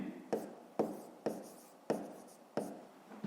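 Pen or pencil writing on paper during a fifth-grade math exercise: five distinct scratchy strokes spaced at regular intervals, each starting sharply and fading, close and quiet with no talk.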